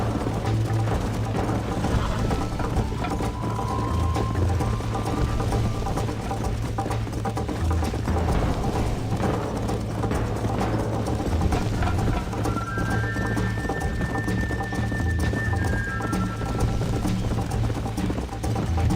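Horse hooves clip-clop steadily in a Western video game setting, a loud, continuous rhythmic clatter under a low hum, with brief faint tonal sounds drifting over the top.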